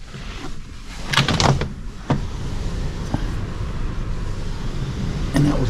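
A thick glass balcony door on a cruise ship slides and closes with a few close knocks and a thud, then the outside wind noise drops to a quieter steady hush.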